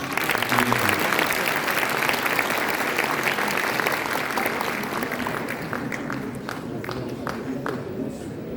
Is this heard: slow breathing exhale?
no